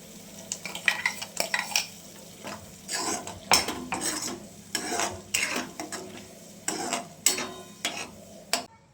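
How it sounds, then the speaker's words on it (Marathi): A spoon scrapes and clinks repeatedly around a pan while masala for paneer curry is stirred, with a soft sizzle of oil beneath the uneven strokes, close and fairly loud with no talking. "आता हा मसालासुद्धा आपल्याला छान असा ढवळून घ्यायचा आहे"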